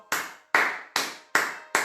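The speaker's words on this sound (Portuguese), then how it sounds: "aplaudir essas pessoas que querem ir, querem fazer, estão ansiosos para ir" Five sharp hand claps at a slow, steady pace, each one crisp and close, with brief silence between them.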